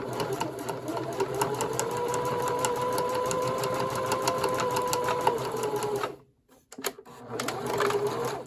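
A sewing machine stitches back and forth on a fabric gusset of a handmade bag, a steady close mechanical whir running for about six seconds, then a pause with a few clicks before a short burst of stitching resumes.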